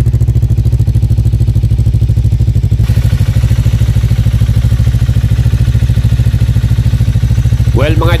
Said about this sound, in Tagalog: pakinggan natin yung kanyang actual exhaust sound mga idol. Yung rumble niya.